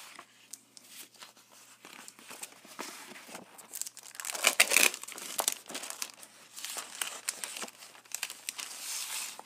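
Crinkly paper packet being unwrapped from a Stampin' Up! craft supply order, with a steady run of close, papery crackles and rustles that swell louder in the middle.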